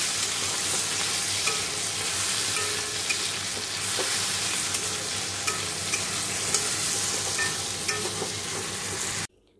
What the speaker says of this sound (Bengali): দেখো এই পটলগুলো ভাজা হয়ে গেছে, আলুটা ভেজে নিচ্ছে এবারে